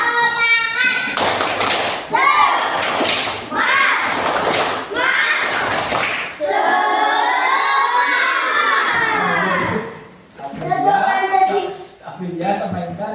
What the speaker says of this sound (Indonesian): coba tepuk semangat untuk siapa yang memimpin